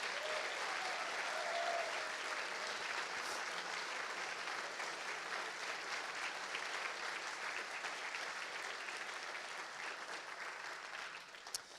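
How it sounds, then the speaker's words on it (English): A crowd at the Champlain College Game Studio senior show applauds, with sustained, even clapping that carries on for over ten seconds and tapers slightly at the end. "Please join me in a round of applause again for these incredible people."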